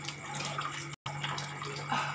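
Water splashes and runs steadily as a face is washed at a basin or tap, a close, continuous wet rushing with small splashes and a momentary break in the middle, no voices.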